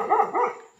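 A dog gives two quick harmonic barks close by, the second slightly longer, then fades out with no talking.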